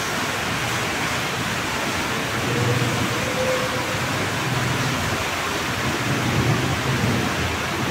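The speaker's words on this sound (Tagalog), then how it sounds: "Pero itong ulan ngayon malakas." Dense, steady rain pours down, a broad continuous hiss with faint low rumbles underneath.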